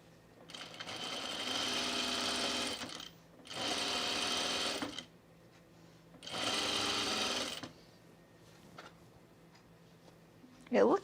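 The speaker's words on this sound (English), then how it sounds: "So my machine was not calibrated to sew fabrics like this." A sewing machine stitches lightweight blazer fabric in three steady runs of rapid close whirring, separated by short pauses, with a soft voice heard faintly.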